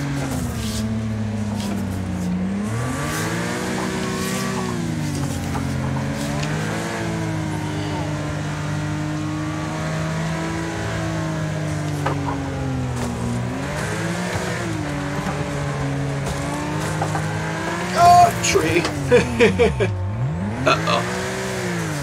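A race car engine in the demolition derby racing game Wreckfest, played on a steering wheel controller, revs and drones continuously with pitch swings, then sharp crash impacts near the end as the car hits a tree; someone speaks briefly.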